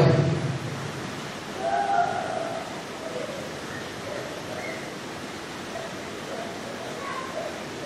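Rain falls during an outdoor meal gathering, a steady unbroken hiss of drops that stays level throughout, with no voices.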